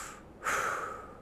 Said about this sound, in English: So I'm gonna first belly breathe.